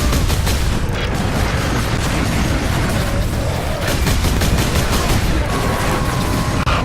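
Bolt gun fire from Warhammer 40,000: Space Marine pounds on without a break. Dense, rapid booming shots and heavy battle noise blend into a loud, continuous barrage that fills the whole stretch.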